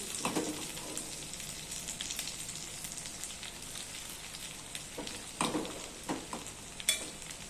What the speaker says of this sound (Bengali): তো এটা আমি ধীরে ধীরে এটাকে ভেজে নেব।